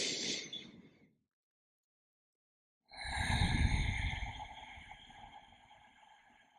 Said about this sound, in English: And let's start by taking a couple of nice deep breaths.